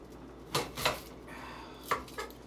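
A knife chops an onion on a cutting board with a few distinct sharp thuds: two close together, a pause, then two more, close and fairly quiet.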